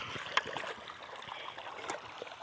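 Irrigation water gurgles and trickles along a channel on a farm plot, a faint, steady flowing wash with a few brief splashes, heard at a modest distance.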